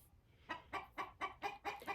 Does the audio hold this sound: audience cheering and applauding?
no